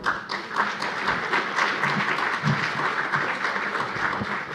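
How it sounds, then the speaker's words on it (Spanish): An audience applauds to send off a speaker at the close of a conference panel session, a steady, dense wash of many hands clapping that holds evenly throughout without any voices on top. "Despidamos al ponente con un fuerte aplauso,"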